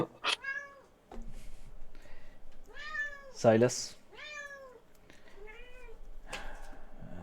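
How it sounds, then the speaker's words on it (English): A cat meows several times in drawn-out rising and falling cries during a pirate-themed tabletop game, fairly close, with people talking in between. "This damn cat."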